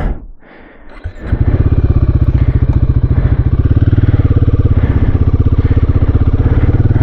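A Royal Enfield Guerrilla 450 single-cylinder motorcycle cranks briefly and then fires up. It settles straight into a loud, steady, close-up idle with an even rapid thumping pulse, and no one speaks.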